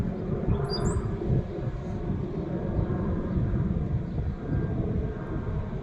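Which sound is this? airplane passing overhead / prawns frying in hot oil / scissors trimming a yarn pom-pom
airplane passing overhead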